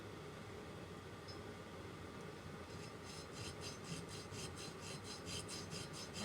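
Rhythmic rasping strokes of sanding a curved metal bezel, faint at first and then repeating steadily back and forth, close by with no talking.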